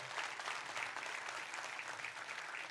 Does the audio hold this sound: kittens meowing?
no